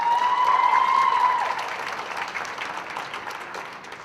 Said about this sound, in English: And please, one more round of applause for Mr. Gaudio.